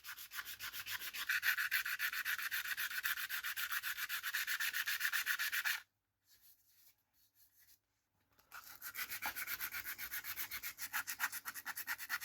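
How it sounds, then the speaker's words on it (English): Sandpaper rubs rhythmically against the inside of a wood scrap piece in a steady, close, scratchy stroke pattern, pausing briefly in the middle before the sanding resumes. "I sand down the inside because I'm going for a nice round smooth finish"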